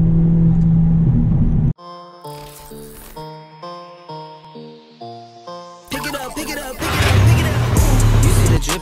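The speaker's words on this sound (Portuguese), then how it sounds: "você também tem um carro forte e gosta de acelerar" A turbocharged Volkswagen Jetta revs in the late night. A loud, heavy engine roar cuts off after about two seconds, and a stretch of stepped tonal sounds follows. Then the engine surges back, loud and rough, for the last few seconds.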